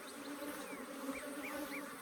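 Africanized hybrid honey bees buzz steadily around an open hive in southern Arizona, a dense, continuous drone close by with individual bees whining past in short rising-and-falling passes.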